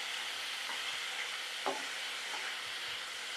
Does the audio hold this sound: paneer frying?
yes